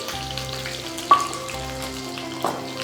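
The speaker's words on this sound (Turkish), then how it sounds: "Etlerim burada mühürlenirken" Steady frying sizzle from meat searing in a hot pan, with a couple of sharp clinks and stirring sounds over the constant hiss.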